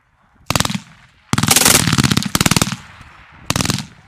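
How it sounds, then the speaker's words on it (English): A Rheinmetall MG3 machine gun, an updated German MG42, fires four rapid bursts of very fast, ripping shots. The bursts are loud and close, with short gaps between them. "the Rheinmetall MG3 machine gun, a slightly updated version of the German World War II MG42"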